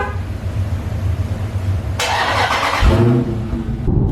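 A Dodge Charger car engine cranking and firing up, a loud close burst that settles into a deep rumbling idle, with no talk over it.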